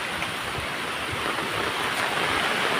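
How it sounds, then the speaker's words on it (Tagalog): Steady, loud rushing of floodwater fills the scene, a constant churning roar with no pauses and no voices. "Yan po, yung tubig baha po."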